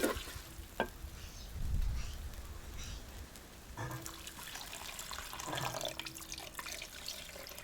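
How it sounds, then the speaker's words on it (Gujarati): Water splashes and trickles into a pan of rasa-style fenugreek seed curry in a home kitchen, arriving in a few short bursts with a dull low rumble partway through, fairly quiet overall. "હવે આમાં આપણે પાણી નાખી દઈએ થોડું"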